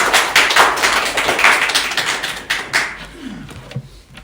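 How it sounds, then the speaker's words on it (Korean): A church congregation claps in welcome as a teacher comes forward, a scattered burst of hand claps that thins out and fades after a few seconds. "나오실 때 박수로 맞아주시기 바랍니다."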